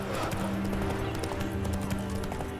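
Roach, Geralt's horse in The Witcher 3, gallops with rapid, loud, close clip-clopping hooves over a continuous game soundtrack.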